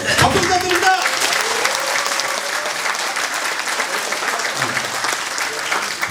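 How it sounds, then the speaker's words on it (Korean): Audience at a livestock association ceremony in Suncheon breaks into sustained, dense applause right after a ribbon-pull countdown, clapping loud and steady for several seconds. "박수 부탁드립니다."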